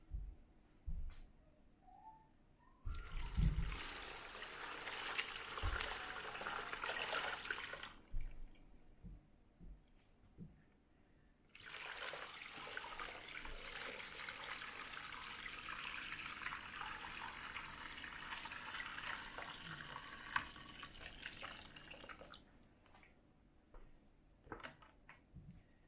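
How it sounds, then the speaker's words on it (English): Chicken broth poured from a crock pot through a strainer, a steady broadband liquid rush in two long pours of several seconds each, separated by a short pause, close and moderately loud with no talk. "since it's cooled off quite a bit, I'm able just to lift up my crock pot and pour it into here"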